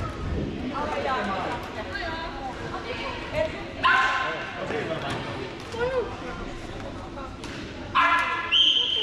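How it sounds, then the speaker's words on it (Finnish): A dog barks a few times at a youth soccer match in Tuusula, its short yips rising over coaches shouting and players calling across the field. "Siellä oli koira"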